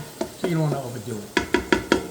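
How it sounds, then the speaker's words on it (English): Food sautéing over medium heat in a pan of olive oil and butter, with a soft sizzle under a man's speech, then a series of five sharp, evenly spaced stirring or utensil knocks against the pan near the end. "So let that just saute a minute."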